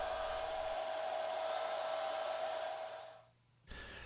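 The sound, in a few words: disc sander smoothing hardwood lure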